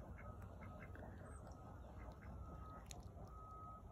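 Ducks quack in short bursts beside a chicken coop area on a rural property, scattered over a steady low outdoor rumble with no talking.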